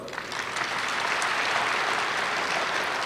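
Steady applause from a crowd, many hands clapping together at a constant, fairly loud level for a few seconds with no speech over it.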